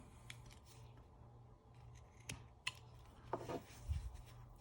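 Carving knife slicing into a small piece of wood, faint scattered clicks and short scraping cuts over quiet background hum, the strokes coming irregularly and closer together toward the end.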